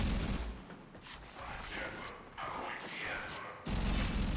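The Prisma Grakata, a rapid-fire gun in the video game Warframe, fires in dense bursts at moderate level, with a clattering mechanical edge and short breaks between volleys.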